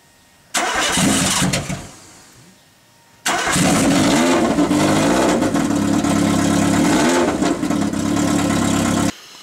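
A Ford Sigma engine, freshly fitted in a car conversion, fires up, runs briefly and dies. It then restarts and runs loudly and steadily, its revs swelling and easing for several seconds close by.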